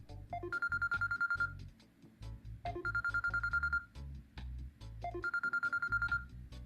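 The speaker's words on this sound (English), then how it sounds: "you hear that ring, ding" A phone ringtone plays a melodic pattern three times over a low rhythmic backing, quiet and fairly distant, with no talking.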